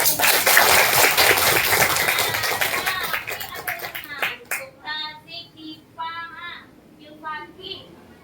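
A burst of group clapping from many hands in a primary school classroom that fades out after a few seconds, followed by children's voices chattering.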